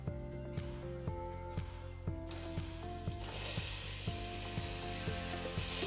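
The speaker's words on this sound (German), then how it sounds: "Wenn alles heiß genug ist, geben wir einmal die Zwiebeln und den Knoblauch dazu." Onions and garlic hitting hot oil in a pot for one-pot pasta, a sizzle that swells into loud continuous frying hiss, with rhythmic mechanical clicks and soft background music underneath.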